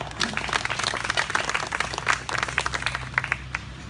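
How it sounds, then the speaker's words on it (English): Audience at a Christmas lunch gathering claps for the event organizers, a steady crowd applause at moderate distance lasting several seconds. "Let's give them a round of applause."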